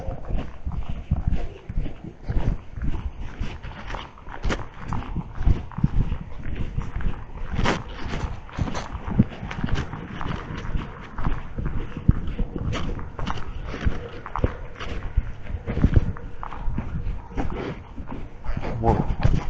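Horse walking in an arena, a close, steady run of soft hoof thuds and shuffles throughout, with a person talking over it.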